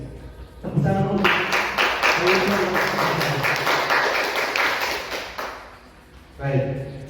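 Audience applause at an Indonesian teachers' training session, a dense burst of clapping rising after a short spoken line, sustained for several seconds before fading, with voices before and after.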